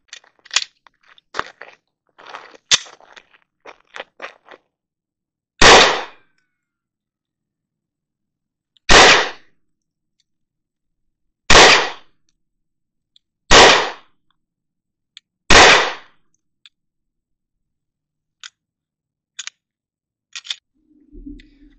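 CZ P-10C pistol fitted with a Holosun 407C optic firing five loud, sharp shots spaced a few seconds apart, with faint clicks and handling noises before and after.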